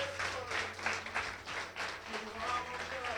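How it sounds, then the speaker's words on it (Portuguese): A church congregation claps in applause during a worship service, a dense run of quick claps that rises and falls over a few seconds, fairly distant in the room. "Dê uma salva de palmas para o Senhor,"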